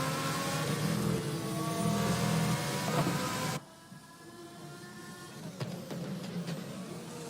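Racing cars in the video game GP4 at the 2015 Australian Grand Prix whine steadily, then the sound cuts abruptly to a quieter background with scattered faint engine passes and clicks.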